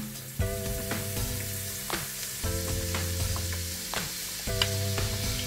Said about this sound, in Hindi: अब हम इसमें गार्लिक डालेंगे।